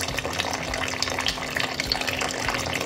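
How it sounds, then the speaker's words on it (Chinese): Steady, fast stream of water pouring from a Philips ADD6901 RO water purifier into a filling container, continuous and close without breaks. "然后这个流水量还蛮快的，而且它不会断断续续的。"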